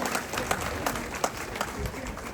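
Applause from an audience at the grand opening of an IVF and fertility centre, a steady wash of clapping with faint voices mixed in.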